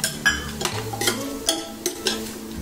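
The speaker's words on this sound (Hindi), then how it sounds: "ये सब हमें अच्छे से फ्राई कर लेना है।" Vegetables and peanuts fry in ghee while being stirred in a pan, with repeated soft scraping strokes over a low, steady sizzle, close and moderately loud.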